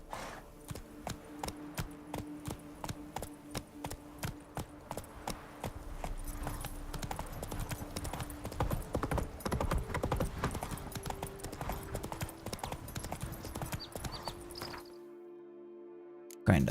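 Roach the horse's hooves clip-clopping in Witcher 3: Blood and Wine, a steady run of sharp, evenly spaced hoof strikes that quickens and thickens midway, then cuts to near silence at the end.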